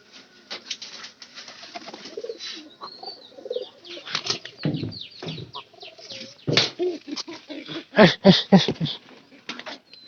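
A pigeon held in the hand flaps its wings in repeated bursts of fluttering. The flapping grows loudest and most vigorous near the end, with faint cooing and other bird sounds in the background.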